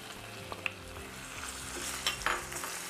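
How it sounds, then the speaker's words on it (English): Beans and sliced garlic sizzle and fry in a hot pan, a steady close crackle with a few stirring clinks and scrapes. "Again, a nice sizzle."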